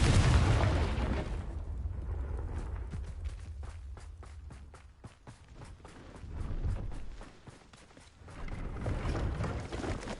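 A Confringo blasting spell explodes in Hogwarts Legacy, a loud opening boom with rumbling low-end decay, followed by scattered crackling bursts and swelling rumbles that rise again near the end.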